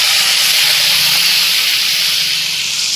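Quail eggs fry in hot oil for a pickle, giving a loud, dense, steady hiss close up with no pauses.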